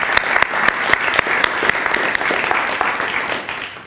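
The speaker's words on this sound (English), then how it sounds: "So to our students, we applaud them." An audience at a county and YMCA after-school program announcement applauds students, a short burst of steady clapping with a few sharp, close claps standing out, fading slightly at the end.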